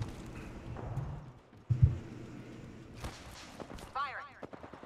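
Rapid bursts of gunfire in Apex Legends crackle at mid distance, with a sharper nearby shot partway through and a whooshing effect near the end.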